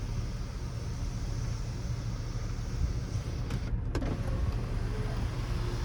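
The electric sunroof of a 2011 Volvo XC60 R-Design opens with a steady low motor hum inside the cabin, ending in a soft clunk as it stops, with no voices.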